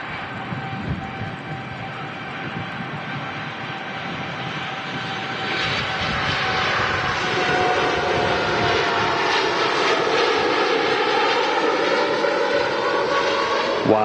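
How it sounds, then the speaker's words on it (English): TUI Boeing Dreamliner jet airliner taking off from runway 23 right at Manchester Airport, a loud sustained engine roar that swells and holds as the aircraft accelerates, heard from a distance with a faint high whine. "TUI Dreamliner blasting off 2-3 right."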